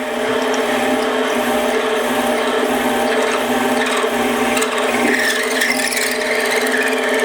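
A small mini lathe hums steadily at about 400 RPM while a drill bit grinds and squeals into metal, close and continuous, with a few shifts in pitch.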